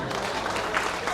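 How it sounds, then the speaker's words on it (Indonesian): A seminar audience at a museum bursts into applause, a brief dense wash of clapping filling the room. "kalau begitu tepuk tangan untuk kita semuanya"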